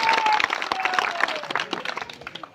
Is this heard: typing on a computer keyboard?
no